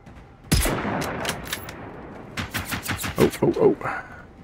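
Hunting rifle shots in the survival shooter Generation Zero, one loud crack followed by a quieter stretch and then a rapid cluster of sharp reports, with voices talking over parts of it.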